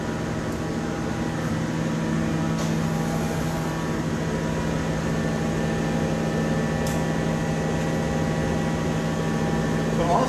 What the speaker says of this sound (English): Now I'm going to heat this up and then start blowing it out.